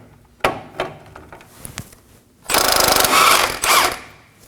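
A ratchet on a 17mm socket works loose a tie rod nut on a 2014-2020 Acura MDX, first a few sharp metallic knocks, then two loud bursts of rapid ratcheting clicks close by.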